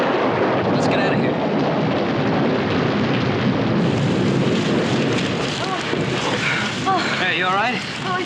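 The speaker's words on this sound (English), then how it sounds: "here comes the rain" Thunderstorm with heavy rain outdoors, a loud broad roar of rain and rumbling thunder with gusting wind across the microphone, plus brief whistling tones near the end.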